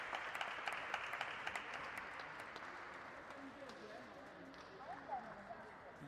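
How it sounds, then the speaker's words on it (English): A crowd at a FIBA women's basketball game applauds and cheers, the noise fading gradually, while a commentator talks over it and sneakers squeak on the court. "Cheers from the crowd."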